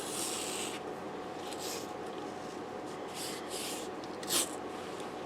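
Creases of a cardboard craft box being burnished, heard as soft, close rubbing and scraping strokes in short irregular passes, quiet and with no talking.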